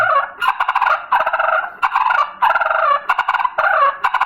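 A turkey call imitates fighting turkeys: excited, rapid gobbles and purring clucks in choppy overlapping bursts, as if birds are squabbling, loud and close with no talking.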